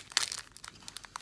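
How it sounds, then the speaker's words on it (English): A plastic bag crinkles as beads are packed back into it, giving a cluster of quiet crisp rustles and crackles over a little more than a second with no talking. "I put them back in a plastic bag"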